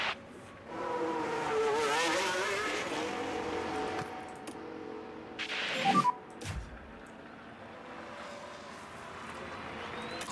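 Formula 1 cars at Monaco in the F1 Manager 24 video game, engines whining and revving, with a brief tire squeal and a burst of rushing noise midway before it fades quieter.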